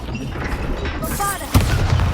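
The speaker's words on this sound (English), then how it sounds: "Bombarda!" A Bombarda spell in the video game Hogwarts Legacy goes off in a sudden loud boom over a dense game soundscape, with a rumbling low tail after the blast.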